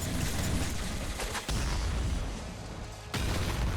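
Rapid hyper rifle bursts in Nuclear Throne, dense crackling gunfire in two or three loud, sustained volleys separated by brief gaps.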